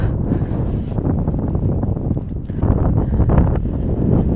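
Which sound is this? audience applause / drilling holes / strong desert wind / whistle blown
strong desert wind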